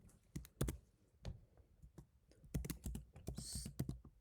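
Keys clack on a computer keyboard while code is typed, quick irregular bursts of crisp clicks, close and fairly quiet, with brief pauses between runs of keystrokes.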